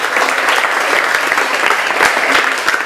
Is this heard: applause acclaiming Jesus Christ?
yes